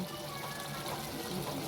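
Water poured steadily into a pot of home-cooked chicken gravy, a soft continuous gushing fill close by, with no talk over it.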